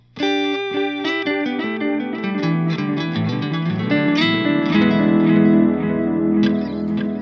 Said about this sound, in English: So my delay sounds like this alone.